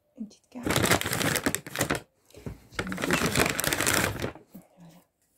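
Tarot cards are shuffled in two long riffling bursts, close and crisp, separated by a short pause, with a soft tap at the end.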